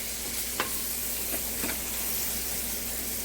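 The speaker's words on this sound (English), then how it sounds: "take your spatula and mix the flour with the sausage" A spatula scrapes and stirs flour into browned sausage in a frying pan over a steady sizzle, with a few sharp scrapes against the pan.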